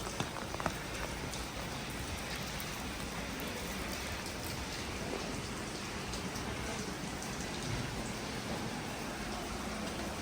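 Steady rain falls throughout on Lviv's old town, a dense hiss of drops pattering on hard surfaces nearby, with no voices.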